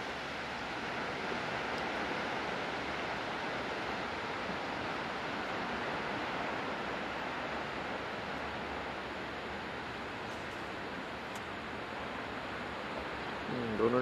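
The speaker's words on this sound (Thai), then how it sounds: "ได้ยินเสียงคลื่นไหม" Continuous broadband wash of ocean waves on a New Zealand shore, steady and fairly close with wind buffeting the microphone, and no voices over the surf.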